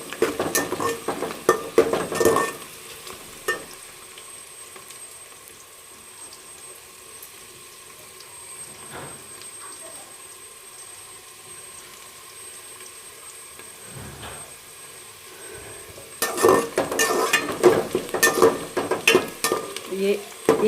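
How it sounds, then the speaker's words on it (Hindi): Whole spices roasting with browned onions in a pan while cooking chana pulao, giving a steady low sizzle throughout, with louder bursts of stirring and clattering utensils near the start and end. "इनको हल्का सा हमने इनके अंदर रोस्ट कर लेना है।"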